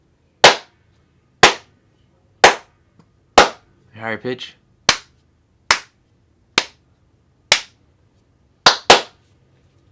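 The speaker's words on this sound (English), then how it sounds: "so here goes the clap." Sharp single hand claps, about ten of them, spaced roughly a second apart, each a crisp isolated crack against a quiet background, with a short burst of speech partway through.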